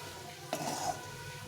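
Boiled chickpeas get a single quick stir in a pan, producing one brief metallic scrape against a quiet background hiss.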